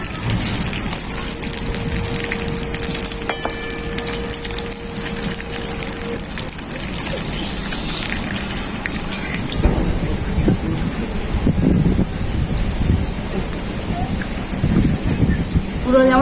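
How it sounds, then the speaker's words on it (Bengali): Potato fritters (aloo bora) frying in hot oil, a dense, steady crackling sizzle that grows louder in the second half, with a brief tonal beep early on. "দু পিঠটা এরকম উল্টে উল্টে ভেজে নেব।"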